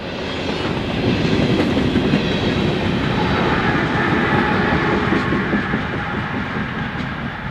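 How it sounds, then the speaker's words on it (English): A long Kansas City Southern freight train hauled by locomotives rolls steadily past nearby, a loud continuous rumble with rhythmic clickety-clack of wheels over rail joints. "fewer locomotives hauling longer and longer trains"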